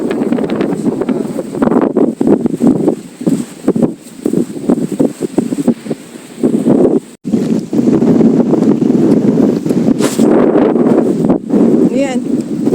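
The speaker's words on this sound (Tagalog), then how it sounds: "Lakas ng hangin ngayon dito." Strong gusty wind at a fishing spot buffets the microphone with loud, rumbling roars that rise and fall almost continuously, with a brief lull partway through.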